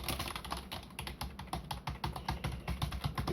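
Rapid, uneven clicking of keys being typed on an old computer keyboard, close and fairly quiet, continuous with no voices.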